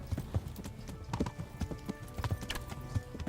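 Horse hooves galloping in Kingdom Come: Deliverance, a fast, close, rhythmic clatter of hoofbeats with occasional snorts, loud and continuous through the stretch.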